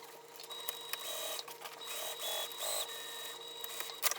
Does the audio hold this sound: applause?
no